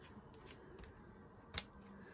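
Scissors make a single quick, crisp snip through excess ribbon on a handmade patchwork card, one short sharp cut in an otherwise quiet room with a few faint rustles.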